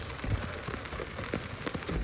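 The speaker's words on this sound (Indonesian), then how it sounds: "Sekarang kita udah dalam tenda, di luar hujan." Rain falls outside a tent pitched on Mount Sindoro, a dense, crackling patter of drops striking the fabric close by, steady and fairly quiet with no talking.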